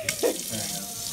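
Tap water from a faucet runs into a sink in a kitchen where butter is being washed, a brief splash at first and then a steady, moderate rushing flow.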